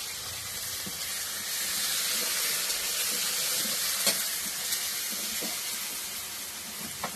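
Ginger-garlic paste fries in a pan over a clay stove, a steady dense sizzle and hiss that stays even throughout with a few soft stirring scrapes underneath.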